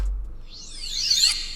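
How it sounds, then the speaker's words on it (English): A reversed riser sample with reverb in a hip-hop beat, a short swelling whoosh of bright rising and sweeping tones that builds to its loudest at the end, heard alone. "I just added this one little riser here."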